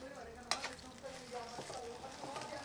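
Eggplant fries in a pan with a soft, continuous sizzle, broken by a few quick stirring scrapes and clatters, fairly quiet and close.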